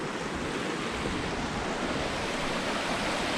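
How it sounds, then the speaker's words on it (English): Waterfall beside a shallow wilderness creek, a steady broad rushing of falling water, constant and fairly close with no voices. "And that waterfall,"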